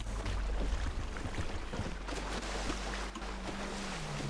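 Steady rumble of boats moving over water in GTA roleplay, with wind and sloshing waves, a constant low engine drone throughout, no voices.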